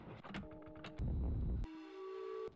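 A train-like whistle in the Myst sound puzzle, a video game, sounds as steady tonal blasts with clear harmonics, broken by a burst of rushing noise, then a longer sustained whistle tone that cuts off, close and alone.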